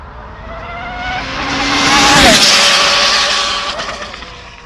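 An Arrma Limitless V2 RC car on a speed run at a race track screams closer with a rising high-pitched motor whine, peaks loud as it passes, then fades away with a falling pitch.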